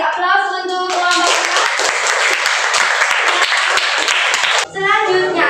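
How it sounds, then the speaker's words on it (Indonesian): A class of high school students claps for a student group, with a dense, steady round of applause lasting several seconds, while a teacher's voice is heard before and after it. "Oke, kita beri aplaus untuk kelompok"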